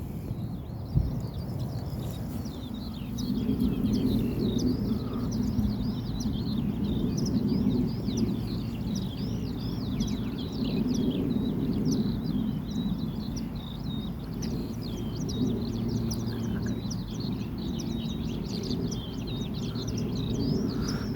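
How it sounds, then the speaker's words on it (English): Skylarks and meadow pipits sing continuously over open heathland near Sherwood Forest, a busy layered chorus of trilling, chirping song carrying on for twenty seconds over a low rumbling background. "It's just full of birdsong here,"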